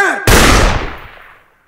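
A single heavy gunshot rings out in an action movie scene after a fire command, sharp and loud at the onset, then a long echoing decay that fades over about a second.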